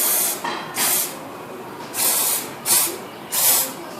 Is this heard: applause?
no